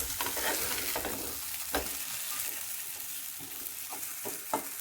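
Ragi dough cooking on a hot pan over a gas flame, a steady soft sizzle with occasional light taps and scrapes as it is turned, close and continuous with no talk.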